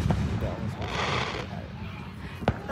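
Fourth of July fireworks heard from a distance, faint rumbling booms and crackle with one sharper pop near the end, under ambient noise.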